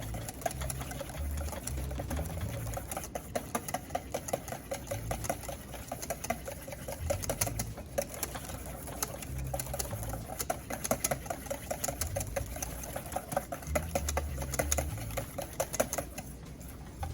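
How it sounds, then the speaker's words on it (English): Rapid rhythmic whisking of egg yolks and sugar in a bowl for semifreddo, a fast steady clatter of the whisk with regular pulses, continuous and close, no talk. "you're thickening, creaming together the egg yolk and the sugar"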